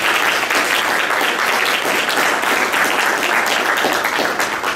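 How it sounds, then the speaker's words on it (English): Sustained audience applause for a town hall panel, dense and steady throughout at full loudness, with no talking over it. "Please give them a round of applause."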